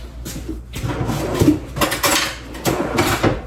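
Metal cutlery rattling and clinking in a kitchen as a tablespoon is fetched while making a Dijon mustard sauce, several loud close clatters in a short burst.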